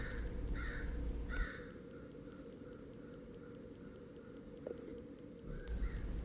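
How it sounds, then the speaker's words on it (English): Several crows caw in a backyard, a few harsh calls standing out early and late against a steady outdoor background, with more birds calling faintly in between. "there was about 10 to 15 more crows that joined in my backyard"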